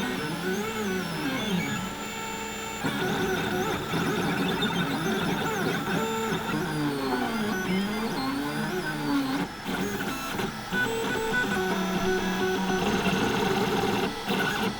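A Snapmaker 2 combination 3D printer, laser cutter and CNC machine runs loudly throughout, a dense mechanical whine of stepper motors with shifting, warbling tones and steady unbroken noise.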